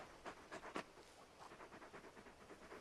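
The dog companion in Final Fantasy XVI pants in quick, rhythmic breaths, a soft, steady huffing heard up close at low volume.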